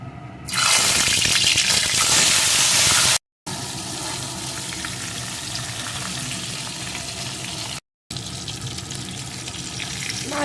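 Loud, steady sizzling and crackling of two turmeric-and-salt-rubbed tilapia fish frying in hot mustard oil, close by and continuous, with two brief dropouts.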